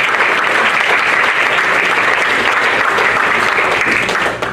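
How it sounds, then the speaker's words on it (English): Sustained applause from a banquet crowd honoring the U15 team captains, loud and steady throughout before easing slightly at the very end. "Let's give one last round of applause for the team captains"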